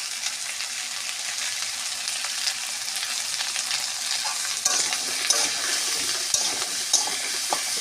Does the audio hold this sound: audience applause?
no